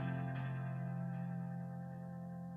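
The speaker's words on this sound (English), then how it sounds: "I'm just going to put on a delay and just kind of show you what it does" A piano played through a delay effect sustains a held chord whose repeats blur into a smooth, slowly fading wash, with faint chorus-like wavering.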